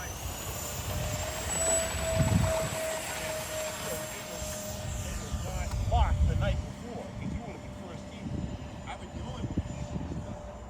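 An RC SR-71 model jet with afterburners flies overhead at a distance, a steady high whine with a sweeping tone drifting in and out, under outdoor wind noise.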